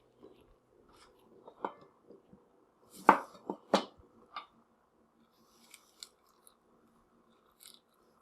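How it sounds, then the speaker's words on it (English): A fork works back and forth inside a half lime for salsa, giving scattered soft squishing and scraping clicks, a few louder in a cluster midway, close and quiet with no talk. "you're just moving that fork back and forth within the sections of the lime"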